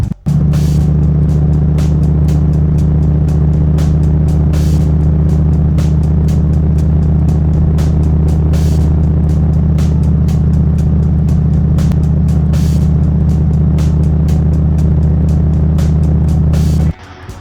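Dodge Viper TA with a freshly installed clutch cruising steadily on a back road, a loud continuous low engine drone and road rumble holding nearly unchanged for the whole stretch before cutting off abruptly near the end.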